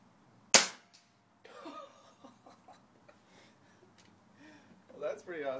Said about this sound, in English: These are freestanding shots,